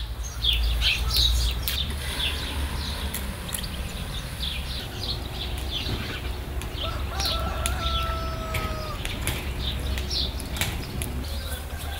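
A rooster crows once at a distance on a morning of a bicycle expedition along the Transalpina, its drawn-out call rising over steady outdoor ambience with occasional wing flaps and faint clucks.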